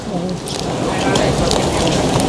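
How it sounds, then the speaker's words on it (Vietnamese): Water splashing and hissing onto open flames beneath pots of braising fish in a Vietnamese village kitchen, a steady crackling spray that swells slightly louder midway, with cooking noise throughout. "chị cầm một cái bình nước này để chị đổ vào những cái chỗ mà lửa nó lên"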